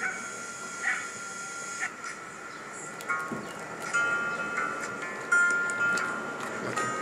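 A dog whimpers and gives soft yips and small barks in a home, faint bursts scattered over a steady background with occasional distant voices.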